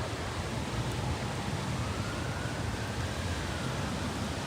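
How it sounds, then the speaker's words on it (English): Sirens wail faintly through a severe storm in downtown Kansas City, a thin rising-and-falling tone barely standing out over dense, roaring wind and rain noise that fills the whole stretch. "I hear sirens."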